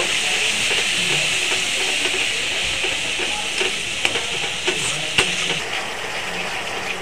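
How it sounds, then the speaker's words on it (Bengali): Ground spice paste with turmeric and its washing water being sautéed in oil, a steady close sizzle with intermittent sharp stirring clicks and spatters growing more frequent toward the end. "দিয়ে এবার মশলাটাকে ভালো করে কষিয়ে নেব"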